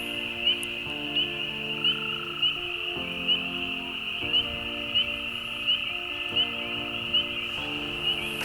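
An American bullfrog gives deep, repeated croaks about every second over a steady high-pitched insect or frog chorus, with a low resonant drone throughout.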